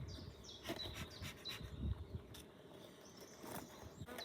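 A small honeybee swarm inside a hive gives off a faint, steady, close buzzing drone with brief higher insect whines drifting over it, and no talking.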